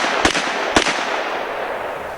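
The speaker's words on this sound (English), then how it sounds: "here's a full charge 44 Magnum bullet. We're going to shoot several times here." Two sharp, loud gunshots from a full-charge .44 Magnum revolver, about half a second apart. Each crack is followed by a long, fading outdoor echo, and no one speaks.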